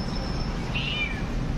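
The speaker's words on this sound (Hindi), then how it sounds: "बिल्ली के बच्चे" Tiny kittens hidden inside an unused motor give a brief, faint, high meow partway through, over a steady low background rumble.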